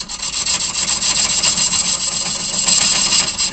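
Hollowing tool cutting wood on a lathe while turning a hollow form: a steady, close, raspy scraping with fine rapid pulsing from the spinning workpiece, loud and continuous throughout.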